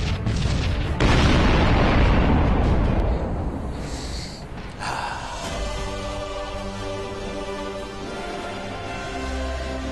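Cannon fire in the space-battle video game Sunrider: a heavy booming explosion burst that rumbles loudly for several seconds, then fades into a lingering, ringing tail with music.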